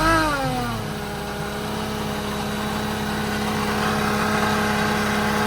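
A supercharged Mazda Miata engine runs loud and steady, a blip of revs settling into a harsh, droning idle with strong tonal whine throughout.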